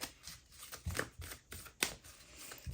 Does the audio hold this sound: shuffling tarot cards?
yes